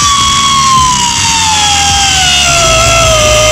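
A power tool cutting down a turbo stud on a D-Series engine's exhaust manifold gives a loud, continuous high whine that sinks slowly in pitch over a few seconds, with a low rumble underneath and no talk.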